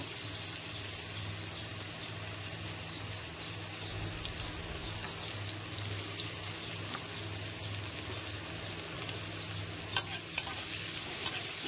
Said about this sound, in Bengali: এবার প্রথমে আমি উচ্ছেটা দিয়ে একটু নেড়ে চেড়ে ভেজে নেব।